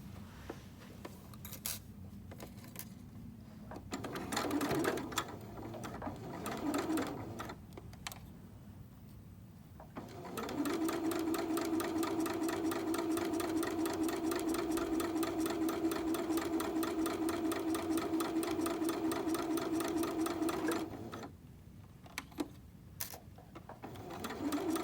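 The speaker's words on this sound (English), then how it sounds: "I'm just going to sew straight down the middle of this." A sewing machine stitches straight down the middle of fabric for a pillowcase doll dress: a short burst near the start, then a long steady whirring run of about ten seconds, close and even, with quiet handling noises around it.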